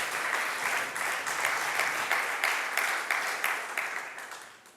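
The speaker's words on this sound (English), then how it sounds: "Let's use the time for an applause." Audience applause at a scientific talk on decadal climate predictions, a steady wash of many hands clapping at close range that holds for several seconds, then gradually thins and fades toward the end.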